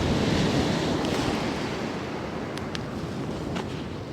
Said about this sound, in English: You just get the sound of those crashing waves coming in.